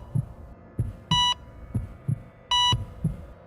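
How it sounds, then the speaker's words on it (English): Heartbeat sound effect pulsing in a steady rhythm of soft low thumps, about one every second, clear and alone, with two brief bright electronic beeps sounding between the beats. "the sound of a heartbeat."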